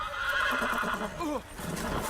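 A horse whinnies with a quavering, rising-and-falling call, close and fairly loud, ending in a short snort.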